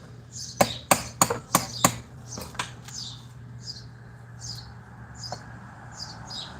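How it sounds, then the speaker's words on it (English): House sparrows chirp in short repeated bursts at an outdoor garden patio where old brick is being leveled, preceded by a few sharp knocks near the start. "We got birds chirping around here. Sound like sparrows, like house sparrows."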